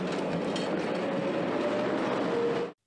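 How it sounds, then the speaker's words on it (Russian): Irkutsk tram rumbling and clattering along city-street rails, a loud steady roar that holds evenly for nearly three seconds before cutting off abruptly. "С характерным гулом и грохотом по улицам города курсирует он, иркутский трамвай"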